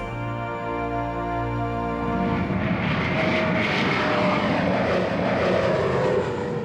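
A Gulfstream V executive jet with 29,500 pounds of thrust passes with a rising, broad engine roar that swells to a loud sustained rush, following a few seconds of steady low tones.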